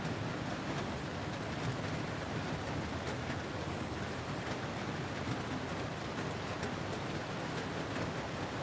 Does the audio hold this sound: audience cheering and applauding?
no